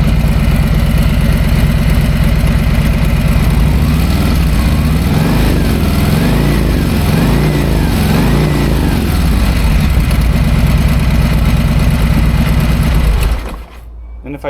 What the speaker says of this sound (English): Let's see it if it changes, if I rev it.